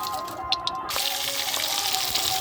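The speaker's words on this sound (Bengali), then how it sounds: "প্রথমে আমি এখানটা চিংড়ি মাছ আর ইলিশ মাছের মাথা ভেজে নেব এই কড়াইয়ের মধ্যে।" Prawns and a hilsa fish head hit hot oil in a kadai, breaking into a loud, steady close sizzle that runs on without pause and with no talk.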